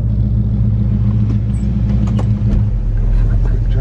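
A 1967 Oldsmobile Cutlass V8 idles steadily after a cold start, a deep, constant rumble close by with a few faint higher clicks and ticks riding on top.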